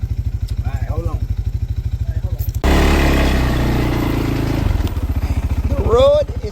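A 4-wheeler ATV engine idles with a fast, even low putter, then revs loudly as it pulls off toward the woods before settling back to idle; a voice talks over it in spots.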